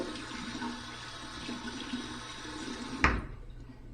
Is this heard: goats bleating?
no